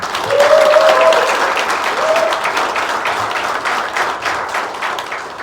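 Loud, dense applause from the audience at the launch ceremony of a citizens' organization's regional chapter, strongest at the start and then easing slightly, with a faint voice briefly audible underneath.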